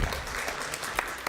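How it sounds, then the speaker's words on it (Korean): An audience claps steadily for four speakers at the close of a panel forum on AI and education, a soft, even wash of applause with a couple of sharper claps standing out. "연사 네 분께 박수 한번 부탁드립니다"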